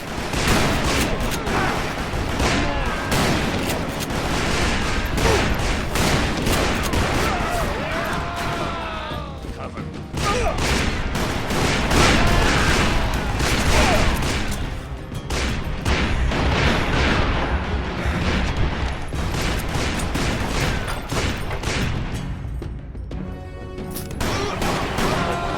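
Sustained gunfire in the Western shooter game Call of Juarez: Bound in Blood, a dense continuous barrage of shots and booms running loud throughout, with game voices shouting under the shooting.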